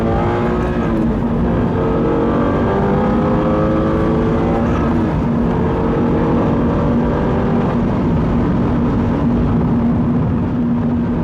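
A 2022 Subaru BRZ accelerating onto the freeway, its engine droning loudly with rising pitch sweeps through several gear changes, steady and close from inside the cabin, no talking.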